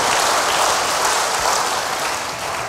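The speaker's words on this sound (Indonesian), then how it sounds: "Berikan tepuk tangan dulu bagi Tuhan." A church congregation applauds for God, a loud, dense, continuous wash of many hands clapping that holds steady throughout.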